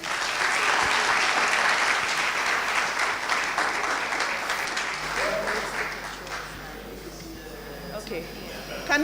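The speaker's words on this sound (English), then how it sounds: "let's clap for them." An audience at a university student venture demo day claps for student presenters, a full, sustained round that gradually thins and fades, with faint talk underneath toward the end.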